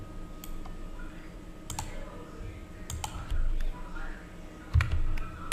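Computer mouse clicks while working in NX CAM turning software: sparse, sharp clicks spread unevenly through the stretch over a low room hum, with a louder bump near the end.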